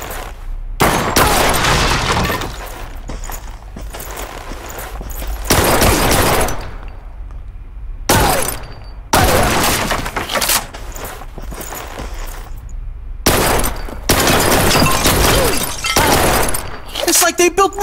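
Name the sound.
gunfire in the video game Blue Estate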